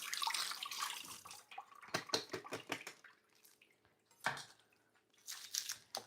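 Green onions rinsed under a running kitchen tap, with bursts of splashing water and dripping that start and stop in short uneven runs, close by and moderately loud, no talking.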